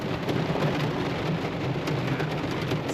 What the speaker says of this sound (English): But look at the rain.